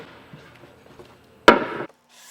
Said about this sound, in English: I'm just rounding this edge a little bit to get rid of any burrs or sharp edges that might be causing that drag.